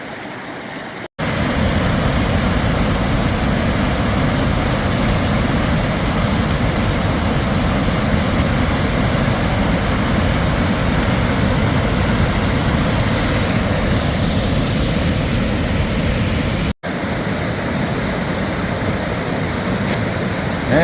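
A waterfall on the Appalachian Trail roars steadily and loudly close by, a dense broadband rush of falling water that holds without pause, with a short break in the middle and no voices.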